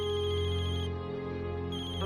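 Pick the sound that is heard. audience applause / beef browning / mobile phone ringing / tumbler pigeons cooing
mobile phone ringing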